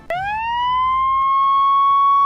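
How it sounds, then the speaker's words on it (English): A siren sound effect bursts in loud and alone, one rising electronic wail that climbs quickly and then holds a steady high tone to the end. "I have to put that siren at the end of every offensive joke I make now"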